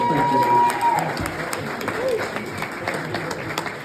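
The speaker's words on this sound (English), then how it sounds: "I usually don't like when people clap for that though" Audience at a comedy show clapping steadily through the whole moment, moderate and near, with murmurs mixed in.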